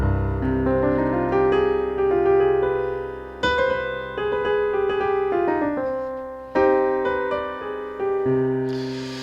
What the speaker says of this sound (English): The harmonic minor sounds like this.